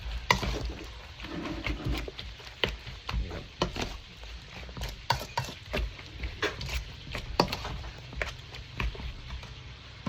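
Minced pork for Thai larb is stirred and tossed with seasoning in a pan. A utensil scrapes and clacks in an irregular series of close, sharp knocks over a soft background.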